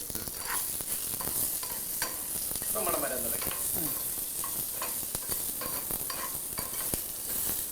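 Curry leaves fry in hot oil, giving a soft continuous sizzle with crackling pops and stirring clicks from a pan, quiet and close without speech.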